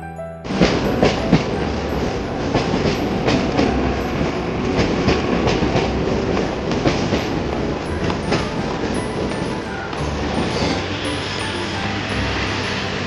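A Mumbai local train pulls into Marine Lines station, a steady loud rumble of wheels and carriages with clickety-clack rail joints throughout, continuing close and unbroken as it arrives.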